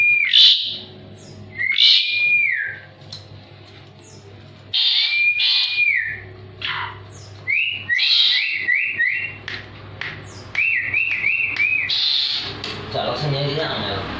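Javan pied myna (jalak suren) singing from a cage, repeated loud whistled phrases and rising slurred notes with sharp chirps, near and clear over a steady low background hum.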